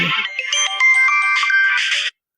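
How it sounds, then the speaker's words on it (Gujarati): Mobile phone ringtone for an incoming call, a bright melodic tune playing loudly and close for about two seconds before cutting off. "ફોન આવ્યો"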